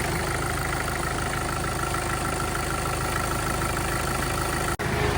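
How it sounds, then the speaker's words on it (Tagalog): A Mitsubishi Pajero Field Master engine, freshly fitted with new connecting rod bearings and a timing chain after a sudden noise and oil leak, idles in an even, continuous rumble with no talking. "Patayin muna natin yung makina."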